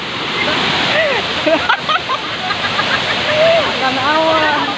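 Panas Falls in New Corella, Tagum, gives off a loud, steady rushing roar of falling water, with voices talking and calling over it throughout.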